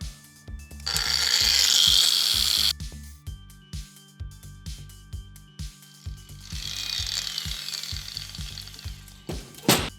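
A Steelforce TH-100G angle grinder set to low speed setting 3 whines against material in two bursts of abrasive grinding, with clattering, scraping handling noises and knocks in between.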